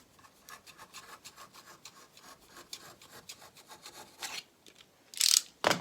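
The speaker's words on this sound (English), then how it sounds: "brace it between those 2 points, and then I'm going to saw" A blade sawing through EVA foam braced between two points, a steady series of rhythmic rasping strokes, close and fairly soft, ending with a few louder tearing rips as the foam gives way.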